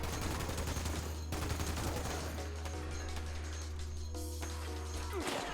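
A .50 cal machine gun firing in Fallout 76, a fast continuous stream of heavy shots over a deep steady hum, loud and close, with a few clattering hits before the burst stops near the end.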